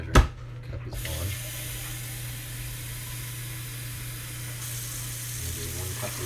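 Tap water running steadily into a glass in a kitchen during turkey roasting, a close continuous hiss and splash after a short clink at the start, with brief talk near the end.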